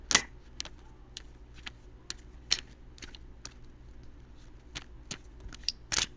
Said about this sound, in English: I'm going to shuffle for just a few seconds more and then cut the cards.